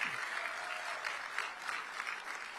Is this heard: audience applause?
yes